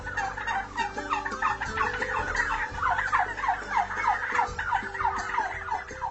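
A flock of farm turkeys gobbles continuously, with overlapping rapid, warbling calls close at hand over a steady low background hum.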